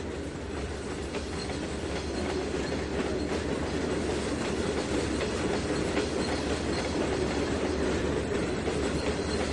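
A video-game freight train of heavy cement cars rolls past steadily, a continuous rumbling drone with rhythmic clickety-clack of wheels on rails, loud and sustained.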